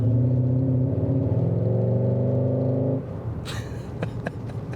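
A deep, rumbling artificial V8 engine drone from a 2021 Skoda Octavia RS 1.4-litre four-cylinder TSI iV in sport mode holds steady for about three seconds, then drops to a lower idle with a few sharp clicks and ticks.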